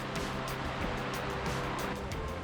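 Waterfall on a trail in Lake Superior Provincial Park, a continuous broadband rush of falling water, steady and fairly close with no talking.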